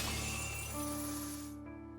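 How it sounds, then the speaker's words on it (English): A chains-shattering sound effect from the Fate/Stay Night visual novel bursts with a bright crash that breaks into ringing, metallic tones and then fades out. "The chains are broken."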